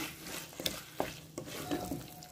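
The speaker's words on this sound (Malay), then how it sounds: "Kena gaul. Jangan bagi dia hanyut lah." Spoon stirring chicken biryani rice inside a pressure cooker, with a few soft scrapes and clinks over a low, steady bubbling background, no voices.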